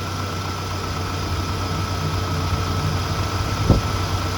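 An engine idles steadily at around 1000 RPM in a shop, a constant low rumble with a faint brief knock near the end.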